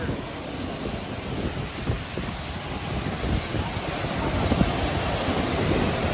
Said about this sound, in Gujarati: પવન બહુ આવે છે.